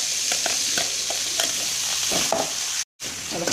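Ground garlic and coconut paste fries in hot oil while being stirred, a close, dense sizzle with scraping strokes of the spoon, cut by a brief silent gap near the end.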